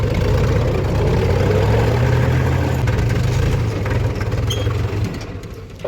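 A tractor engine idles close by with a steady low diesel rumble, holding even for several seconds before easing off slightly near the end.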